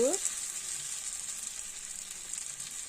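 Kodo millet batter sizzles on a hot griddle as it is spread, a steady bright hiss that holds evenly from start to finish, close and moderately loud, with a faint scrape early on and no talking.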